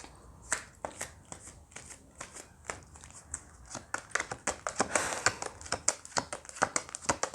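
Lenormand cards are shuffled by hand at close range, producing rapid irregular bursts of papery riffles and sharp slaps that thicken into a dense flurry midway.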